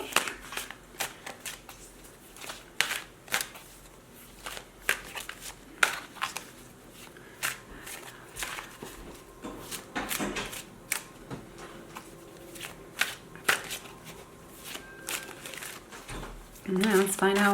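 Tarot cards are shuffled by hand close up, making crisp, irregular clicks and riffles in uneven bursts with short quieter gaps between them.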